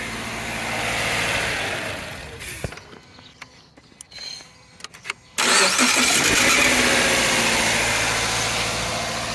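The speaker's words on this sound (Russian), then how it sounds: "Этот неприятный звук в виде скрежета издавала машина только в момент пуска двигателя." A car's faulty starter cranks with a harsh grinding whir, sputters briefly, then the engine catches and roars into a loud, steady idle.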